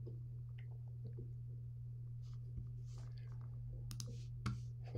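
A computer mouse clicks faintly while working in Photoshop, with a few sparse, sharp clicks spread over a steady low electrical hum.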